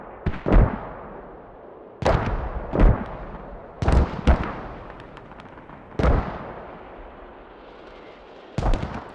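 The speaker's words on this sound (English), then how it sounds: "We have an airstrike in 2 as well." Airstrike explosions on the Gorodok map in the video game Squad: a string of heavy, booming blasts, some in quick pairs, each decaying into a rumbling tail, arriving every couple of seconds with no voices.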